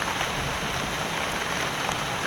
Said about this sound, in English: See, this rain isn't so bad.